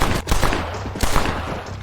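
Gunfire in the Western video game Red Dead Redemption: two loud, close bursts of rapid shots in under two seconds, crackling and dense, with no talk.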